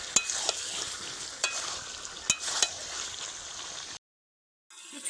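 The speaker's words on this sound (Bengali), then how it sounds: "আবারও কিছু সময় ভালোভাবে কষিয়ে নেব।" Chicken is stir-fried kosha-style in a pan with very little water, giving a steady close sizzle broken by sharp spatula scrapes and clicks. The sound cuts out briefly near the end, then resumes.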